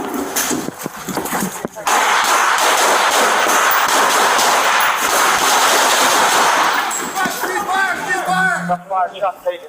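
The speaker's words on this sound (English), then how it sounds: "I'm firing, you got priority!" Gunfire during a tactical entry drill, heard as a dense, loud burst of rapid shots lasting several seconds, followed by sharp shouting voices as the shooting stops.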